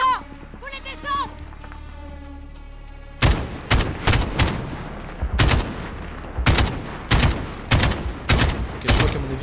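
Sniper and other gunfire ring out in the Modern Warfare video game, a burst of loud, sharp shots that begins partway in after a stretch of music and continues in rapid repeated cracks.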